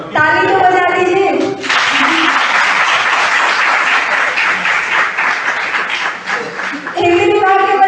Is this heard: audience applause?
yes